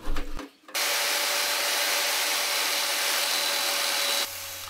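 Spikes on a full metal armour suit helmet are trimmed with a power tool, making a loud, steady grinding whir that runs for several seconds after a few short knocks and then drops to a lower hum near the end.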